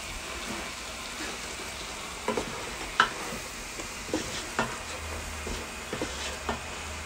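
Shrimp sautéing in a pan with salt, a steady sizzling hiss broken by intermittent clicks and scrapes of stirring, close and moderately quiet, with no talking.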